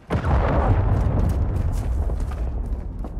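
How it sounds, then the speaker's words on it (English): A cruise missile from Call of Duty Modern Warfare 2 multiplayer detonates with a loud, sudden boom, then a long rolling roar of debris and rumble. "Friendly cruise missile approaching target."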